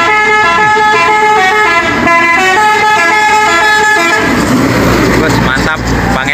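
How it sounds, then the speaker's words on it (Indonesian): A medium bus passes close by and sounds a loud musical multi-tone horn in a repeated melodic pattern, followed by a roaring engine and road rush as it goes, with a voice talking over it. "Medium bus menuju Ranah Minang."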